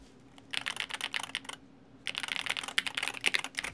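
Rapid typing on an 8K computer keyboard, two bursts of close, crisp key clicks separated by a short pause, with no voices.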